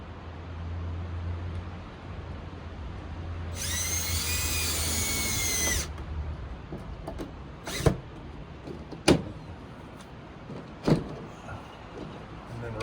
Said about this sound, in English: And then we're gonna get a screw in that corner just to pull that up.